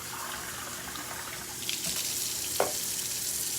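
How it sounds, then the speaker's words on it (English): Tap water runs steadily into a sink and down the drain with a continuous hiss, broken by a brief sharp clink near the end, no talking. "And this water down here going down the drain."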